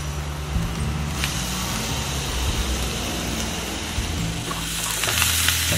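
Steady sizzle of grated beetroot cooking in a pan alongside coconut for a sweet, a continuous close frying hiss with faint stirring and no voices.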